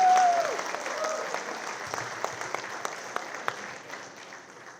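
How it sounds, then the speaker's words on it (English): Audience applause at a community unity dinner swells loudest at the start and tapers steadily, many hands clapping together with a few distinct louder claps standing out near the end. "onorable Jeevanji, our chairman of the IACF, give a big round of applause."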